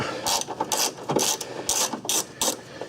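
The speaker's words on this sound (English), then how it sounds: "So I'm going to remove this bolt" A ratchet wrench clicks in rapid bursts while loosening an 8mm bolt on a Ford Ranger during an A/C repair, with close, repeated ratcheting strokes roughly every third of a second.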